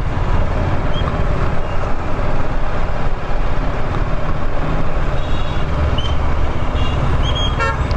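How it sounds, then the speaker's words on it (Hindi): The bus stand in Manali, a busy Himalayan hill town, is full of dense traffic din with a constant roar and several short vehicle horn toots, the clearest near the end. "तो ये बस अड्डा है मनाली का।"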